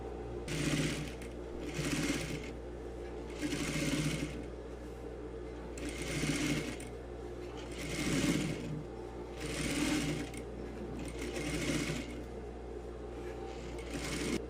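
A sewing machine stitches the seam of a tailored vest with its lining, running in steady bursts of rapid mechanical whirring separated by short pauses, close and clear.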